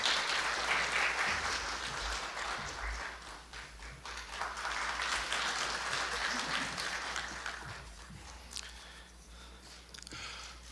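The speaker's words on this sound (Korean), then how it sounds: "큰 박수로 환영해 주시기 바랍니다." An audience at a Korean political talk event gives a welcoming round of applause for a former presidential chief of staff, a steady, fairly distant wash of clapping that swells, holds for several seconds and slowly thins out.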